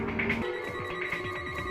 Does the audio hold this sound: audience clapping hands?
no